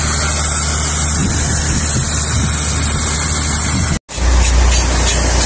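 A grain trailer being loaded from a big grain cart on a farm: a loud, steady engine drone with a broad rushing roar of pouring grain, cut by a sudden short dropout before the heavy rumble resumes.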